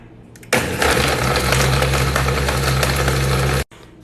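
A blender whirs loudly and steadily for about three seconds, crushing ice and crumbled cookies into a milkshake, then cuts off abruptly, with quieter background before and after.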